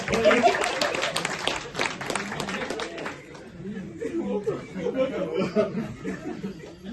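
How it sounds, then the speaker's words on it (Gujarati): Audience clapping and chuckles at a Gujarati stage show, a loud burst of applause in the first few seconds that fades into scattered laughter and murmuring, with someone speaking over it. "એટલે એકવાર જોરદાર તાળીઓ થઈ જાય"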